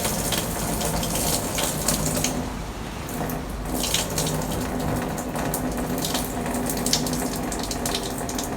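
Liquid pours steadily from a container for several seconds, a continuous splashing gush with slight swells, no talking over it.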